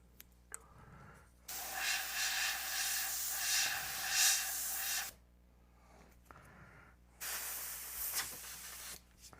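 An airbrush sprays paint onto a mummy miniature in two bursts of steady close hiss, the first about three and a half seconds long, the second shorter, separated by near silence with faint clicks.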